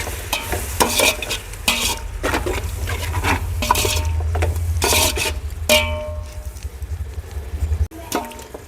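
Yogurt being stirred into an uggani mixture in a pan: steady scraping and swishing strokes with a soft sizzle underneath, fairly loud and close, no voices.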